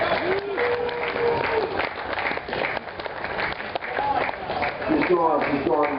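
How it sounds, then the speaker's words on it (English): A sideshow tent audience applauds the performer's assistant, steady clapping that runs the whole time while a showman keeps talking over it. "please give a hearty, healthy hand of applause to my lovely assistant"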